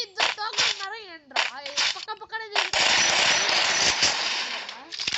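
Rapid automatic gunfire in the video game Free Fire, a dense sustained burst rattling on for several seconds after short pops, loud and close, with excited talk before the burst.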